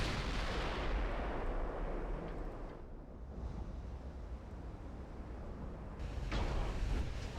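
Naval guns fire and shells strike a warship in Ultimate Admiral Dreadnoughts: a dense, booming roar that opens loud, dips into a rushing, surf-like wash, then surges again with another heavy burst.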